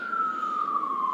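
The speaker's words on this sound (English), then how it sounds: "Hear those sirens?" An emergency vehicle siren sounds as a single steady, slowly falling wail, moderately loud and heard alone without talk.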